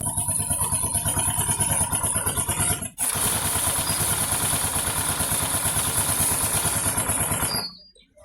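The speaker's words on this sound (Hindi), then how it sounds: "तो स्कूटी के इंजन की आवाज़ अपनी आइडल पे खड़ी है।" A Honda Activa scooter engine idles at a steady, close, clattering putter with its body panels removed, briefly dipping once before running on evenly and then cutting off at the end.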